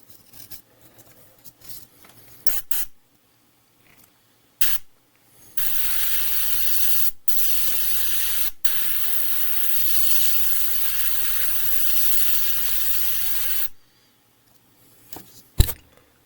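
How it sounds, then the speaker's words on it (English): Air compressor kicking on for about eight seconds of steady loud hiss and hum with brief breaks, while paint is sprayed onto a model plane; quiet handling clicks come before and after. "Just like clockwork, compressor kicks in."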